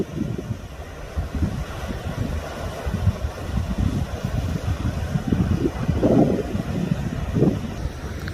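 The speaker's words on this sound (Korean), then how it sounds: "바람은 살살 불고 있고" A gentle wind blows over the rough sea along a coastal road on Jeju, rumbling low against the microphone with soft, uneven gusts and distant surf.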